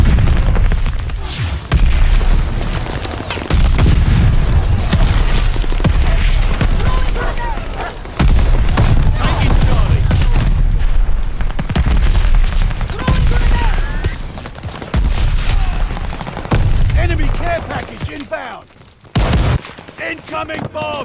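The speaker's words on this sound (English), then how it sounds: "Incoming bomb! Clear out!" Bomb explosions and heavy gunfire fill a Call of Duty: Vanguard multiplayer Domination match on PS5, with loud booms and fusillades sounding almost continuously. Shouted in-game voices come through between the blasts.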